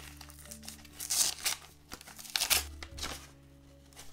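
Small gift packages being opened, with wrapping paper crinkling and tearing in close, irregular bursts over a faint steady hum.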